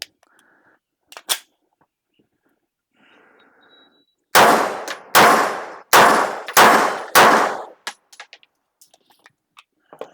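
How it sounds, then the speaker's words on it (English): Canik TTI Combat pistol fired in five sharp, loud shots at an even rhythm, each with a ringing tail, followed by faint scattered clinks and small handling noises. "I'm gonna take some rounds and fire and see what goes on."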